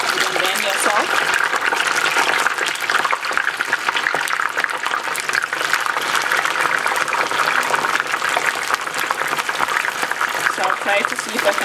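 Yams frying in a deep pan of hot oil, a loud steady sizzling and bubbling hiss that runs throughout, with someone talking over it.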